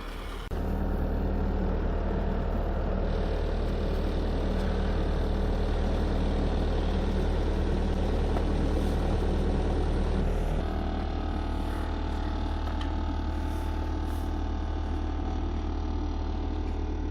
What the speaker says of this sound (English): Got our skidder running, warming up.